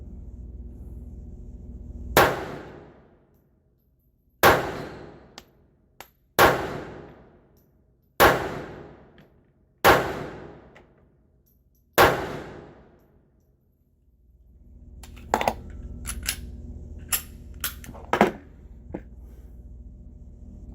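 A Ruger LCP Series 1 pistol fires six sharp, loud shots spaced roughly two seconds apart, each decaying quickly into quiet, followed by a cluster of lighter metallic clicks and clinks.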